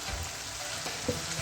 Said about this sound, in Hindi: अदरक का पेस्ट डाल के मैं इसको 3 मिनट तक अच्छे से इसके साथ भूनूंगी